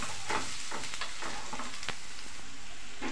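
Dry chilli powder and chopped green chilli are stirred in a hot pan for fried rice, giving a constant close sizzle with occasional scraping strokes of the spatula.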